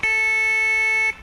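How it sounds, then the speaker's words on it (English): A steady 440 hertz A test tone, a harsh, buzzy electronic pitch held loud and unbroken for just over a second before cutting off. "That very annoying tone is A, which is 440 hertz."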